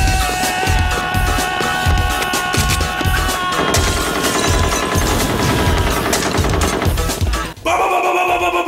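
Rapid machine-gun fire and fusillades in an action film montage with a shooting inside a church, loud continuous bursts over music, with a brief cut near the end.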